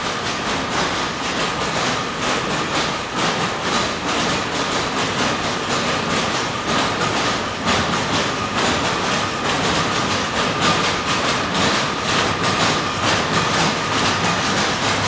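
Historic cloth-making looms run inside the Boott Cotton Mill, a loud, dense mechanical clatter with rapid steady rhythmic beats filling the room without pause, no talking.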